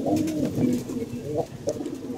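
Pigeons in a loft during rainy weather, some sitting puffed up and listless, give low rolling coos close by, one call running into the next with a brief dip partway through.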